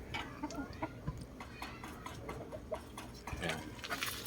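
Clucking and short calls from white kelso cross gamefowl chickens, with scattered bursts over a busy backyard background and a muffled voice in the mix.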